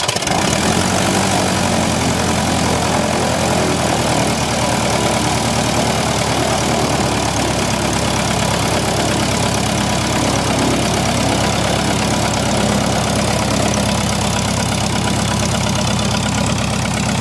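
Piper Cub light aircraft piston engine after start, settling into a steady loud idle with a constant low throb and broadband roar throughout, no voices over it.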